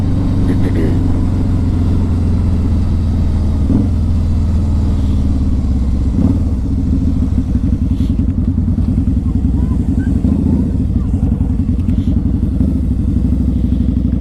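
A 2003 Harley-Davidson V-Rod motorcycle on a test drive, its engine a loud, steady low rumble throughout with slight changes in revs, heard close as if from the rider's position.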